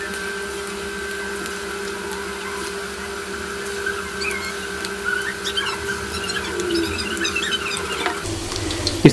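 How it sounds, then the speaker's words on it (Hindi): Chicken pieces deep-fry in hot oil for chicken manchurian, a steady close sizzle under a constant hum that grows a little busier as more pieces go in. "इसमें इस तरीके से आपने इनको डीप फ्राई करते जाना।"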